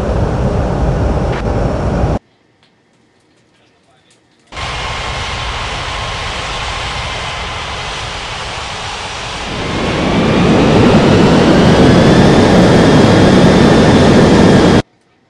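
An aircraft taxiing at Bali airport, loud and steady engine roar that cuts out briefly, returns, then swells with a rising whine near the end.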